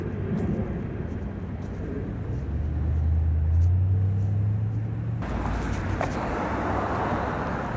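Road traffic rumbles past a crosswalk outdoors, a steady low roar of passing vehicles that builds as one nears and fades, with continuous background noise and no talk.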